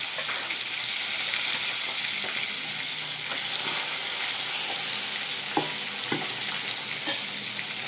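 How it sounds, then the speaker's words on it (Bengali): Small carp sizzle steadily as they fry in hot oil, a constant loud crackling hiss with a few small pops and spatters. "মাছটা ভাজা হয়ে যাক"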